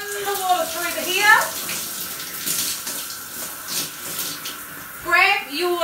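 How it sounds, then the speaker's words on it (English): Shower water runs steadily through hair, a continuous hiss and splash that swells and dips, with a person speaking over it at the start and end. "What you need to do is just run the water through the hair."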